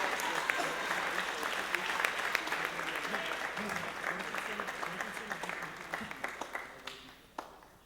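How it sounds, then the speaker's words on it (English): Audience applause at a high school bands spring concert, a broad crowd clapping that starts full and gradually thins out into scattered individual claps toward the end, with some faint chatter underneath. "Can we give him a big round of applause"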